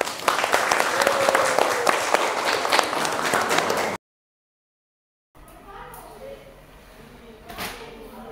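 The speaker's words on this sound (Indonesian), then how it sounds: "Oke, tepuk tangan." Audience applause at a vocational high school (SMK) gathering: about four seconds of dense, continuous clapping from a crowd, then it cuts to silence before quieter room sound resumes.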